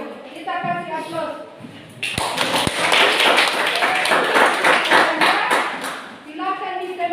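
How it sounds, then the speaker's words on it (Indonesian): Classroom applause for a group presentation, a burst of many hands clapping together for several seconds, close and lively, with a teacher's voice speaking before and after. "Kita kasih aplaus."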